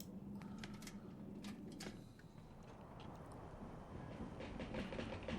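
A train in the Syberia 2 game runs with a faint, steady rolling rumble and some light rhythmic clicks and clacks, quiet and continuous throughout.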